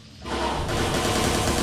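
Rifle gunfire in the video game Watch Dogs 2, a short dense burst of rapid shots starting abruptly and continuing loudly for under two seconds.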